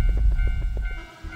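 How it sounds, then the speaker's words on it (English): A train in a horror video game rumbling past at close range, heavy low rolling noise with rhythmic clacking that fades out, no voices. "that's the train, ain't it?"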